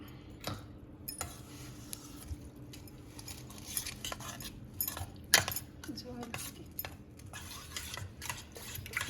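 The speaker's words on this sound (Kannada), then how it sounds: "ಇದೆಲ್ಲ ಹಾಕೊಂಡು ಚೆನ್ನಾಗಿ ಮಿಕ್ಸ್ ಮಾಡ್ಕೊಂಡೋಣ" Sabudana idli batter with curd and water being mixed in a bowl: a spoon clinks and scrapes in an irregular rhythm, close and fairly quiet, with faint background talk.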